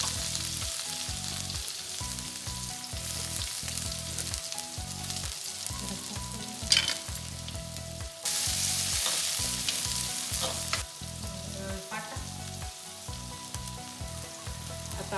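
Onion hits hot oil in a pan for a homemade manchurian, a continuous sizzle close by, with repeated rhythmic thumps and a louder burst of frying partway through.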